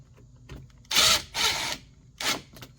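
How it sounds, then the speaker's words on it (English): A screw driven back into a bathroom exhaust fan housing with a power driver, three short whirring bursts separated by brief pauses, close and fairly loud. "Let's put that screw back in there."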